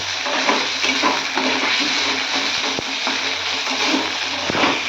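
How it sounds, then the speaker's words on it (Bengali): Potatoes frying in a pan, a steady dense sizzle with occasional scrape and clink of a utensil against the pan, close and continuous with no talking. "আলুগুলোকে ভালো করে ভেজে নিচ্ছি"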